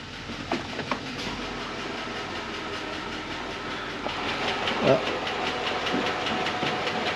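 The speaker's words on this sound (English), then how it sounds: "let's take it for a drive and see how our transmission is" A 2006 Chevy Express 2500 van with a suspected transmission problem drives with a steady engine rumble and faint rattles and clatter throughout, with brief voices over it.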